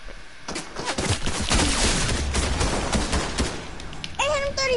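Gunfire in the video game Fortnite, a loud, dense stream of rapid shots close up, ending with a brief electronic tone.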